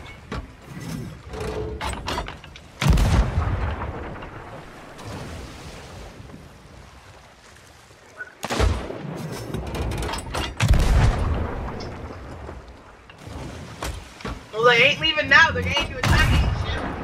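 Toy-like pirate cannon shots at a pirate night, several sharp bursts scattered through the clip amid children's and adults' voices, with splashy crowd noise and chatter between shots.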